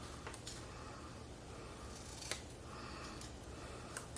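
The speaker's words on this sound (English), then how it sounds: "I guess I have to cut back way far." Scissors snipping paper to shape a pull tab for a handmade embossed journal, a few brief, crisp cuts spaced apart over a low, quiet background hiss, with no voices.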